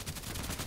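A single gunshot in a shooting video game, one sharp crack whose tail fills the short moment, heard fairly faintly with no talk over it.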